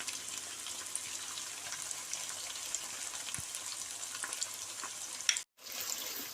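Chicken and potatoes fry with yogurt over a medium-low flame, giving a steady soft sizzle with faint bubbling and an occasional light tap, then a brief silent cut before the sizzle resumes.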